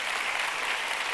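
Audience applause at a church seminar: a steady, even wash of clapping from a crowd, continuous and fairly close, with no voices over it.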